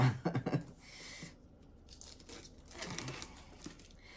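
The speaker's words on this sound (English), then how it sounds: "just make a little tiny hole and then rip it off" Plastic wrapping on an unboxed item is crinkled and torn open close by, a few sharp rustles first, then longer ripping crackles that come and go.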